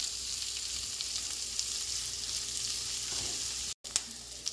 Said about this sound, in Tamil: வெங்காயம் மிளகாய் எல்லாம் போட்டு வதக்கிறது.